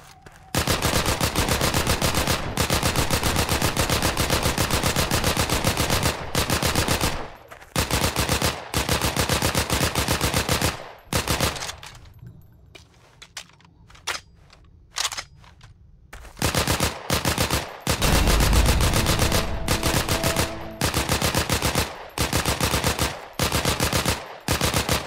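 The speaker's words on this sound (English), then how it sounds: "not just the shooting sounds have been changed, but also the reload sounds and all the other sounds which are related, which you hear when you use these weapons" Automatic weapon fire in the video game Heroes & Generals, rapid continuous bursts separated by short pauses, with a quieter stretch in the middle before the shooting resumes.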